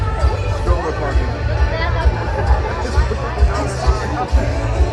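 Dense crowd chatter fills Magic Kingdom at Walt Disney World on a fireworks night, a thick babble of many voices with some closer talk and footsteps, steady and loud throughout.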